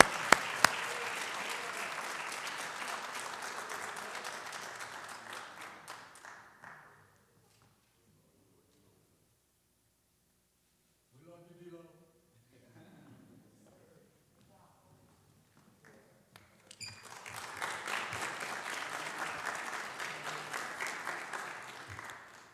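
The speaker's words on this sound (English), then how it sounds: "Y'all clap it up for D'Angelo." Audience clapping at a college honors night for a student, a strong burst that fades out, then a quiet stretch with a brief voice, then a second loud round of applause.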